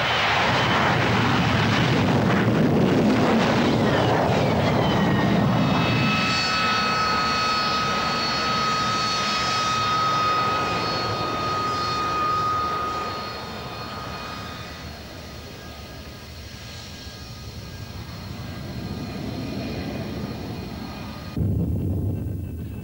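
A Harrier II jet with a Pegasus engine hovers or comes in to land with flaps lowered, a loud roaring rush giving way to a sustained high whine that slowly fades, alone without talk.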